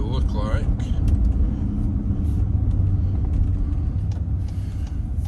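A car driving along a road at night, its engine and tyre rumble steady and close throughout, with a brief voice near the start.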